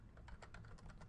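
Keys clatter on a computer keyboard as an online application form field is filled in, a steady run of close, crisp clicks lasting about a second over a low background hum.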